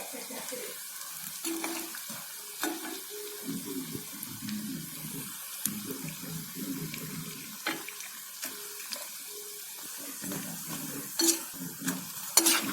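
Cauliflower pakoda in gram flour batter fries in hot oil with a soft, continuous sizzle and scattered crackles, plus occasional clinks and stirring sounds, all fairly quiet.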